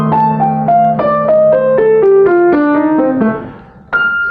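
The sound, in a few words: slow piano sextuplet run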